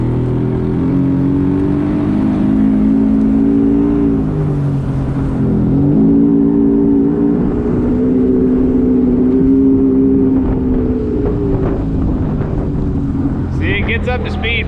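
Outboard motor on a small boat, taken out for only its second outing in 15 years, runs steadily at full cruise, a loud close droning hum holding constant throughout, with a brief higher rattle near the end.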